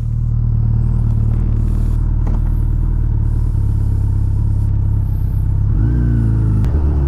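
Suzuki Hayabusa motorcycle on its first ride after a throttle body synchronization, engine droning steadily and loudly close by, with a rev change near the end and no talk.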